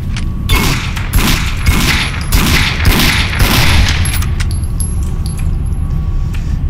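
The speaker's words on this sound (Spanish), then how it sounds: "Y me pegó buenos balazos." Loud rapid gunfire rattles off in close bursts during a shootout in the video game Condemned: Criminal Origins, then gives way to echoing ambience and faint mechanical clicks.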